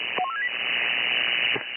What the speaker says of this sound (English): Almost sounds like United Ambulance is getting paged out.